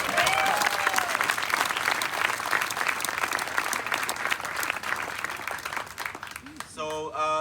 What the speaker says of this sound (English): I would also like another round of applause in a second for my players